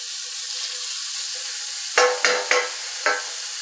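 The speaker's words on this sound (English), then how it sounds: "We're just going to let this cook, stirring it now and then for a few minutes until the onions start to get soft and the garlic gets nice and" Onions and garlic sizzle steadily in a hot pan, a constant close hiss broken by several short bursts of scraping and stirring, with no voices.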